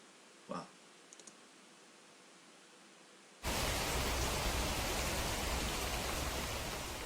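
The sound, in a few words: rain falling, from the anime Neon Genesis Evangelion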